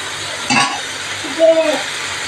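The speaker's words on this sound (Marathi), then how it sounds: "भाज्या नरम होईपर्यंत मस्त फ्राय करायचे आहे" Vegetables with corn kernels, ginger and garlic fry in a pan, giving a soft sizzle broken by a couple of stirring scrapes and clinks from the pan. There is no talking.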